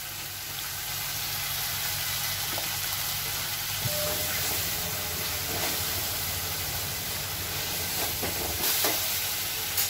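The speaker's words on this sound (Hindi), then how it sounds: "ये मसाला हमारा भुनना शुरू हो गया है" Spices and chana masala frying in a pan for pindi chole give a steady, faint hiss and sizzle throughout, with a few light clicks and no talk.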